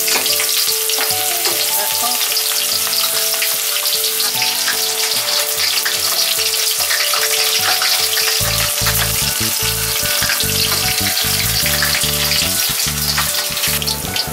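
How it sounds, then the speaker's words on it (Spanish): Onion sizzles loudly in oil in a pan while a Spanish dish of broad beans in sauce is cooked. The frying hiss is steady and close, with stirring knocks and scrapes joining partway through. "Añadimos la cebolla ahora."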